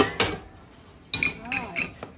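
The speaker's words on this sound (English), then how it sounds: "Here's my favorite little pot." A small metal pot handled in a home kitchen, giving a few sharp clanks and clatters, one at the start and a cluster a second later, with faint ringing between and a voice briefly present.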